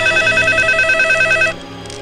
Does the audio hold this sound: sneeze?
no